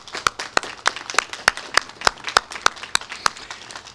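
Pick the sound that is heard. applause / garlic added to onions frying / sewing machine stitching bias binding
applause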